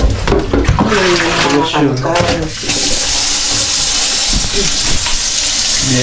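Running water pours steadily over an item being washed by hand at a dumpster-find cleanup, a continuous hiss and splash with clatter and handling noises in the first half and talk over it early on.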